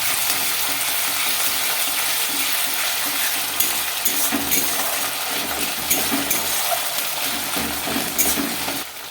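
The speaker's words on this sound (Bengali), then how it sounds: "রসুনের পেস্ট দিয়ে একটু হালকাভাবে নাড়াচাড়া করব।" Garlic paste and green chillies being stir-fried for egg chilli: dense, loud, steady sizzling hiss throughout, with light scraping of a spatula stirring in the pan, no voices.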